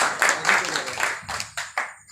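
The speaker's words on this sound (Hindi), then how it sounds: "एक बार तालियां बजा दीजिए" An audience at a Hindi heroic-poetry recital claps in dense applause that thins into a few separate claps, and a voice is faintly heard underneath.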